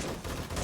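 Automated turret gunfire in the zombie survival game 7 Days to Die, defending a fortified mansion base: a dense, loud, continuous stream of rapid shots with no pauses.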